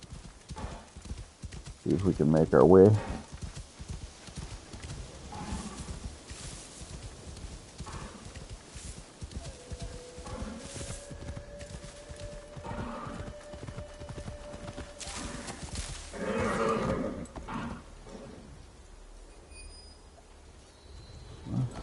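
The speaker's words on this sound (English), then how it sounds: "Let's get my horse Phantom here" Hooves of Phantom, a horse in the video game AC Shadows, clip-clopping through a wintry landscape in a steady gait, with a loud burst early on, a player talking over it and game ambience throughout.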